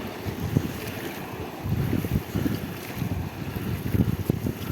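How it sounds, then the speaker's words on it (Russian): Motorboat passing on the water during a fishing trip in Yakutia, a rough engine hum blended with heavy wind buffeting and splashing, steady and fairly loud. "Это моторка, ребята."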